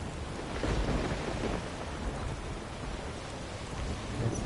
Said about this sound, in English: Sailing through a storm to get to Ciri.